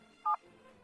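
A single short dial tone beep as a telephone is dialed, clear and brief over a faint quiet background.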